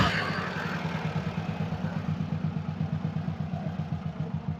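Mitsubishi T120SS minibus from the 1990s with a carbureted engine idling nearby, a steady low rhythmic chug with even pulses, moderately quiet and alone.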